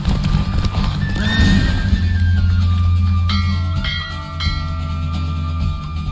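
Galloping horse in a race in The Witcher 3, loud close hoofbeats in a steady rhythm with a whinny early on, over a continuous low game soundtrack.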